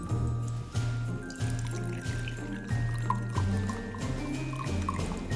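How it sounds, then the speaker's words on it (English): Brewed tea pours steadily into a mug, a trickling splash running for several seconds with light clinks, close by and fairly quiet. "strain your brewed tea and pour it"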